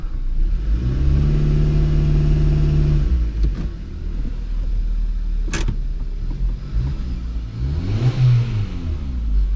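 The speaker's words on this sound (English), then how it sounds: "Rev it." A small car at a Copart salvage yard revs in gear, its engine roaring in a sustained burst, then dropping and climbing again in a second shorter rev, close and loud with no talk.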